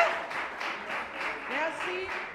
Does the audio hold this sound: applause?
yes